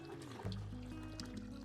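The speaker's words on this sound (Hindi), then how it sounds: "और ये पानी भी इसमें शामिल कर लेंगे।" Water poured into a cooking pot while making beef yakhni pulao, a steady continuous pour with a rising filling tone, close and unbroken for the whole stretch.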